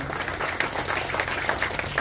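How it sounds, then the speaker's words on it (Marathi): A crowd at a hospital inauguration breaks into steady applause, many hands clapping together in a dense, continuous patter. "एकदा जोरदार टाळ्या या तिन्ही डॉक्टरांसाठी होऊन जाऊ द्या"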